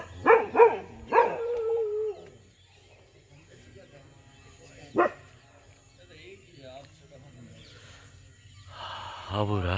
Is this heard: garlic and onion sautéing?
no